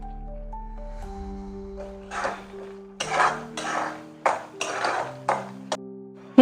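Roasted cashews and almonds tipped into a pan of shira, giving several sharp metallic clinks and scraping knocks against the pan over a steady background hum, with one loud knock at the end.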